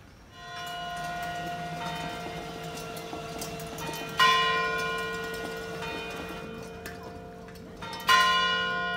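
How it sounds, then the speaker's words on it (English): A church bell rings out in slow, evenly spaced strokes, each ringing tone hanging and fading over a steady outdoor background hum, with louder strikes standing out. "9 bells."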